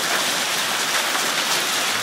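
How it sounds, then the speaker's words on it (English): A hail storm pours down in Whitehall, a dense, loud, continuous hiss of countless impacts on surfaces with no clear gaps. "The majority of what you're seeing here is hail."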